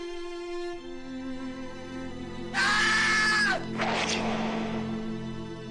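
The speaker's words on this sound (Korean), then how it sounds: "둘러싸인 방 안에서 여인의 날카로운 비명이" A woman's sharp, bloodcurdling scream inside an enclosed room during the assassination of Empress Myeongseong, one loud sustained cry that breaks out over a low drone and then trails off into a rougher second burst.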